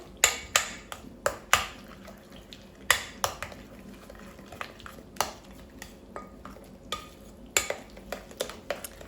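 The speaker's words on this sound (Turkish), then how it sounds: "Evet şimdi bu malzemeleri güzelce karıştırıyorum." A spoon mixes orange and carrot cake batter in a bowl, giving sharp, irregular clinks against the bowl's side between soft stirring swishes, close and fairly quiet, with no talking.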